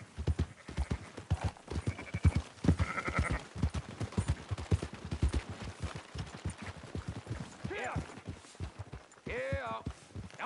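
Sheep bleating in the video game Red Dead Redemption 2, heard amid steady horse hoof clip-clops and a whinny, with louder wavering bleats near the end.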